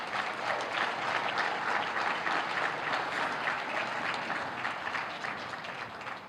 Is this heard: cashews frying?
no